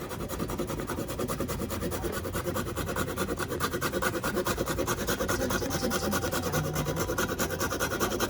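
Fresh nutmeg is grated for a cast iron skillet apple crisp, giving a steady, continuous rasping scrape with no pauses that carries on close and alone for about eight seconds.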